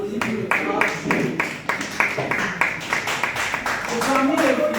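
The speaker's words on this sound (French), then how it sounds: "On applaudit pour le camarade Gilles." An audience at an association's day of reflection in Liège claps for a comrade, a moderate patter of individual claps with voices talking over and between them.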